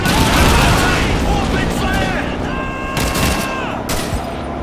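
Loud sustained gunfire in the Call of Duty 2 PC game, a dense fusillade of rapid shots and booms with overlapping bursts and tonal game effects, continuous throughout.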